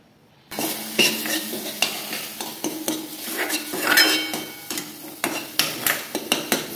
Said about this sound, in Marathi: चांगलं बारीक झालंय, पळीने चांगलं बारीक करून घेतले